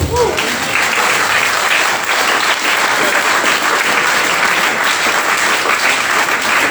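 A church congregation at a harvest Sunday service applauds loudly and steadily as a dense, even wash of clapping. It lasts the whole clip and keeps the same strength.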